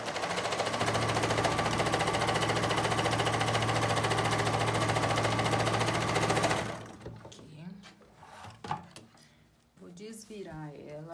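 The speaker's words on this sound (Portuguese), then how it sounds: "vou costurar" A sewing machine stitches a bathroom set in one long, loud, continuous run lasting most of the clip, then stops abruptly, leaving handling noises and someone speaking.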